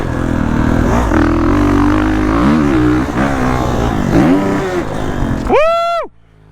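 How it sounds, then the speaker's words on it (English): Pit bike engine revving hard as it rides through sand, a loud continuous buzzing roar that climbs in pitch, then a rising and falling whine at the end before cutting to near silence. "She's finally getting on that throttle."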